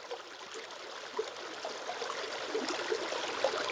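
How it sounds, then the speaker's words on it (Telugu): Stream water flows and splashes over rocks in a steady, continuous rush of close, moderately loud babbling with no voices. "రాళ్లను దాటుకుంటూ ఏ అడ్డంకులు లెక్క చేయకుండా పారుతూ ఉండడాన్ని just visualise, see the water"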